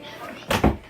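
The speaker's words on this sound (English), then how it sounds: "Close the door!" A household door is pushed shut amid children making slime at home, giving a short double thud near the mic with faint kids' voices around it.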